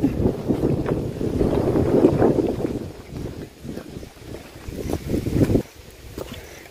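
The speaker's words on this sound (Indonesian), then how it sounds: "Oh, hari ini anginnya kencang banget." Strong gusty wind blowing outdoors in a park, roaring and buffeting the microphone in uneven loud surges and lulls.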